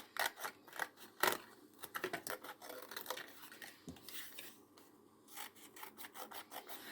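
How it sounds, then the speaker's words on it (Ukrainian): Empty cardboard tea boxes are cut up with scissors in a kitchen, giving a series of close, crisp snipping and rasping cuts in irregular bursts with short pauses between them. "Я завжди їх розрізаю, ці пачки."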